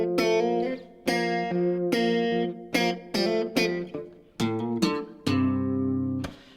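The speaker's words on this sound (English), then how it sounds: "I probably would have went into an amp and turned on a vibrato chorus sound like this" An electric guitar plays through an amp with a vibrato chorus effect, picking a short riff of separate plucked notes and chords with a wavering shimmer, ending on a longer sustained chord.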